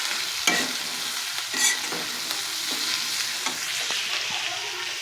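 Boiled potatoes and tomatoes fry with dried loitta fish in a pan, a steady close sizzle broken by repeated stirring scrapes and clatters, no voices.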